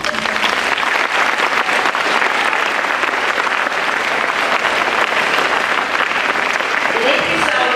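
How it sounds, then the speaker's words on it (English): Loud, continuous applause from a school audience fills the whole stretch at an even level, with cheering voices mixed into the clapping. "You need to give yourself a big round of applause"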